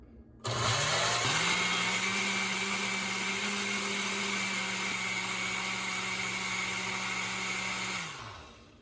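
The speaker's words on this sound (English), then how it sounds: "45 seconds is all we need to blend this and make sure it's fully blended and mixed in." A kitchen blender whirs loudly and steadily for about eight seconds while mixing ingredients for a no-bake cookies-and-milk chocolate cake, starting abruptly, holding an even motor drone, then winding down.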